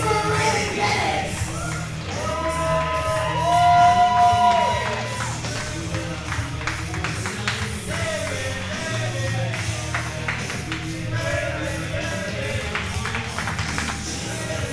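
Live wrestling crowd at a summer event cheering, whooping and shouting in a loud, sustained roar with a swell of noise early on, tapping and scattered voices throughout.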